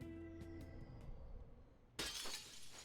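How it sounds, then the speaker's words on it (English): A glass shattering effect in Persona 5 Royal, a sudden bright crash of breaking glass near the end after a quiet musical tone, loud and close. "It's a glass shattering moment."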